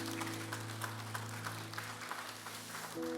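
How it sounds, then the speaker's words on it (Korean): Church congregation at a Sunday worship service applauds softly for a few seconds, light clapping sitting under a steady sustained organ or keyboard chord that shifts near the end. "우리가 격려와 위로로 함께 박수하는 시간 갖도록 하겠습니다"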